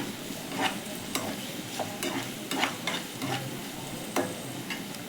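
Onions stirred and sautéed in a pan with a pinch of rock salt for a mackerel fish masala: steady scraping stirs with a soft sizzle underneath, close and moderately loud, with no talking.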